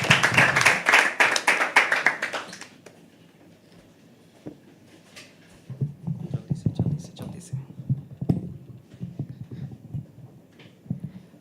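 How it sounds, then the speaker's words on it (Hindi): An audience at a live poetry open mic claps hard for about three seconds, then the applause fades into a quiet room with scattered taps and faint murmuring. "please keep clapping, keep clapping"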